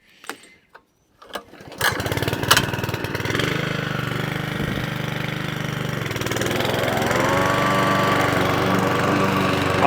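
A Suffolk Punch Atco Allett lawn mower with a Kawasaki FJ100 engine, set on choke, sputters through a few short cranking attempts before catching and settling into a steady, close running drone that climbs slightly in pitch near the end.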